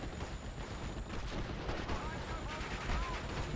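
Soldiers' gunfire in Steel Division: Normandy 44, a dense, continuous rattle of distant shots and artillery-like booms layered under battlefield noise.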